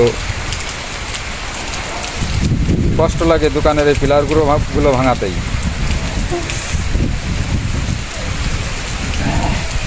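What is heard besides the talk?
heavy rain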